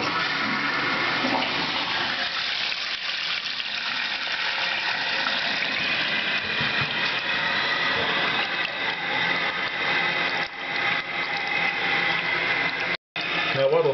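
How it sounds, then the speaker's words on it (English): Tap water rushes steadily into a toilet cistern during installation, a continuous close gushing fill that holds for the whole stretch with only a brief dropout near the end. "Turn on the tap."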